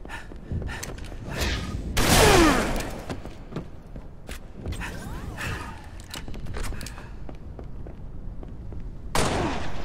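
Shotgun blasts during a Halo multiplayer match on the Reflection map, several loud, booming shots spaced a few seconds apart, each a sharp burst with a trailing roar amid scattered game effects.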